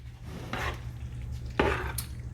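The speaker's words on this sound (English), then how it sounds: "We're just gonna add that Alfredo to our noodles and stir it up" Fettuccine noodles being stirred together with Alfredo sauce in a pot, giving two short scraping, clattering bursts of utensil against cookware over a low background hum.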